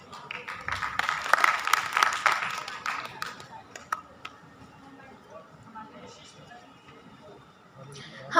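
Audience clapping to welcome a distinguished chief guest at a Kashmiri youth exchange programme event, a burst of applause in the first few seconds that thins into scattered claps and room noise.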